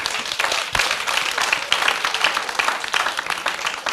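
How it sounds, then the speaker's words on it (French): Audience applause at a French-language speaking contest broadcast, dense steady clapping from a crowd lasting throughout, loud and close with no voices over it. "Je voudrais qu'on applaudisse pour lui."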